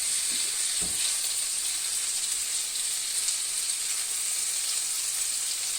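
A tomato mixture fries in a pan with a continuous, even sizzle and hiss, close and fairly loud. There is a brief low knock near the start and no speech.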